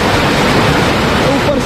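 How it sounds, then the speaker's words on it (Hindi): A fast-flowing mountain stream swollen by monsoon rain rushes loudly beneath a small culvert bridge in a Himalayan village, a dense, steady roar close by. "और यहाँ देखो यह गदेरा, पानी का फ्लो कितना तेज़ हो रहा है इस पर, क्योंकि बारिशें हो रही हैं।"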